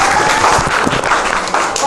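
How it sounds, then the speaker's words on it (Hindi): Steady applause fills a short stretch during a light-hearted physics quiz show, dense continuous clapping from a group of people at fairly even loudness throughout. "ताली बजा यार दोनों लोग"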